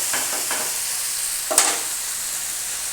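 Taro stolons frying in a pan with mustard and green chilli paste, a steady bright sizzle with a few soft stirring scrapes and one sharper clatter partway through.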